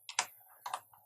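Two quick bursts of computer keyboard key clicks as an IP address is typed, crisp and close in a quiet room.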